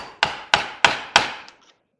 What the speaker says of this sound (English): I'm going to try it with a hammer and see if I can get this